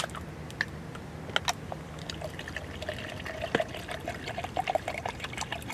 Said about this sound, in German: Mit Wasser auffüllen.